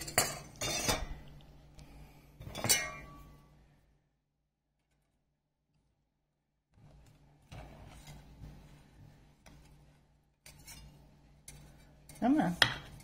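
A spatula scrapes and clinks against a baking pan while blueberry buckle is pried out, in several short bursts near the start, a silent gap, then more scraping and a sharp clatter at the end.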